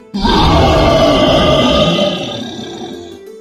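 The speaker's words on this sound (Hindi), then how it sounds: "शेर ने दहाड़कर कहा" A cartoon lion lets out one long, loud, growling roar up close, holding steady for a couple of seconds before trailing off.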